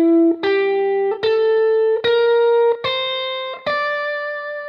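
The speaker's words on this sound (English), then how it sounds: "The G hybrid scale on the top 3 strings sounds like this." Distorted electric guitar runs a G hybrid scale across the top three strings, six picked notes rising at an even, unhurried pace, each ringing with bright overtones and no voices.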